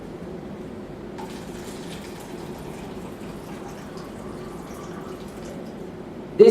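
Tap water pours quietly and steadily into a container, a soft continuous trickle with faint drips, close by and with no talking over it.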